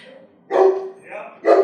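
A puppy lets out two short, close barks about a second apart, with a softer whine-like sound between them.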